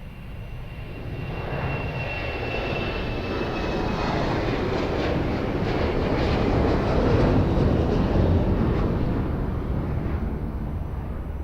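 An airplane taking off at Lisbon Airport: a loud, broad engine roar that builds steadily and stays heavy throughout, close by and with no one talking.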